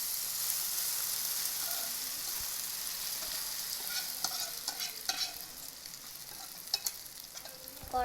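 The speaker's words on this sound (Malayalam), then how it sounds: "ഫ്രൈ പാനിലേക്ക് നേരെ തട്ടി കൊടുക്കാം." Chicken cake batter frying in a frying pan gives a steady, loud sizzle and hiss, with scattered clicks and light scrapes toward the end, no talking.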